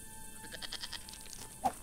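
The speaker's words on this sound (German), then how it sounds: "Oh, diese blöde Ziege." Goat bleat in the video game Baphomets Fluch 5, a short, faint wavering call over quiet game ambience, with a brief louder note near the end.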